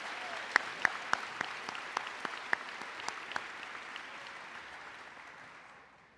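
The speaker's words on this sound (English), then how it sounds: "Let's give these students a well-deserved round of applause." Audience applause for students at the 2021 Haven Middle School promotion ceremony: steady clapping from a crowd with a few sharp, distinct claps standing out, gradually thinning and fading away.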